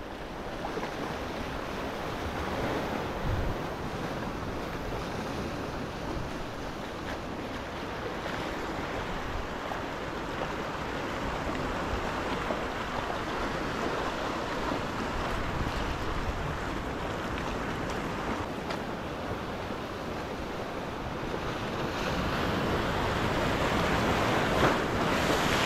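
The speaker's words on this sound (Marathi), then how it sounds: "ती आता लाट बघाल ना पूर्ण त्या खडकाच्या वरतून अशी पार होऊन आली आहे आणि या साईडला पण जबरदस्त वेव्ज बनत आहेत" Ocean waves roll and crash over rocks on the Konkan coast, a steady loud surf wash that swells and builds near the end, mixed with wind buffeting the microphone.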